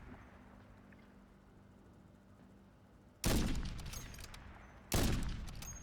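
Two sniper rifle shots in Call of Duty: Modern Warfare 3, each a sudden loud blast with a trailing echo, about two seconds apart, after quiet background ambience.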